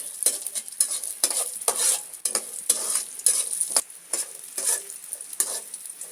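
Cashews and raisins frying in a pan, a steady sizzle with repeated stirring strokes scraping the pan at an uneven rhythm, close and fairly loud with no talking.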